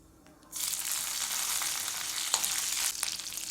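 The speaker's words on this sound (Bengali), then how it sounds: "আর সর্ষের তেলের মধ্যে আমি ফোড়নে দেব" Black cumin and slit green chillies hit hot mustard oil with a sudden loud sizzle that holds steady, a close, bright frying hiss without talk.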